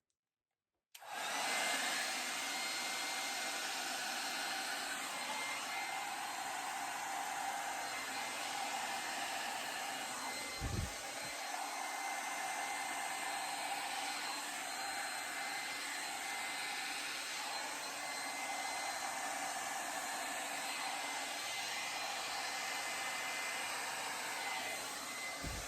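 A hair dryer blows steadily over acrylic pour paint, a loud continuous whooshing roar that starts abruptly after a second of silence and holds for the rest, briefly interrupted by a low thump midway.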